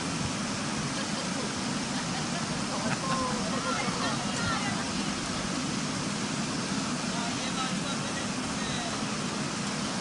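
Waterfall at Cascata dell'Arenile near Cerveteri, a steady broadband rush of falling water filling the whole clip at constant level, with faint voices and movement mixed into the roar.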